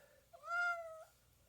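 A single cat meows once, a clear, tonal mew lasting under a second, close and fairly quiet against a near-silent room.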